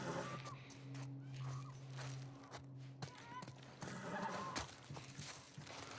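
Hooves clop and a horse whinnies in the video game The Last of Us Part I. The hoofbeats come in uneven steps close by, with the whinny rising over them, and a voice speaks briefly alongside.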